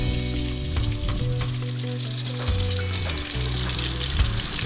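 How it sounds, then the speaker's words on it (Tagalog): Yellow Dot Trevally fish body frying in hot oil, a steady close sizzle and crackle running throughout with low rumbling tones underneath. "Nagpiprito ako ng pinaiwan natin na Yellow Dot Trevally."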